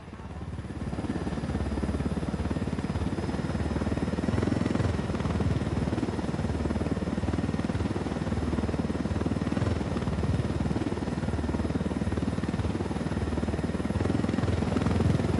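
A helicopter flying low through a canyon in the Ghost Recon Wildlands video game, its rotor and engine drone steady, close and continuous throughout, heard alone.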